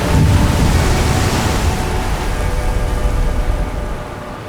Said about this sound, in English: when you just listen to the sound of the waves